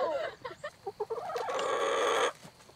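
Chickens on a frontier homestead cluck in a quick run of short separate calls, then give one longer loud call before it drops away. No one speaks.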